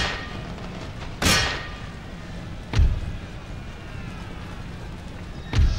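Troops firing in Empire: Total War sound as three sharp, separated cracks with thuddy low ends over a steady murky battlefield background.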